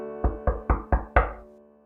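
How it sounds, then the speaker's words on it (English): Five evenly spaced knocks on a door, close and resonant, each ringing briefly, the last one slightly harder, then fading to silence. "just as I reached for the door to leave, there was a knock."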